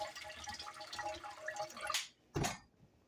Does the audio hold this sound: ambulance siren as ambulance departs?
no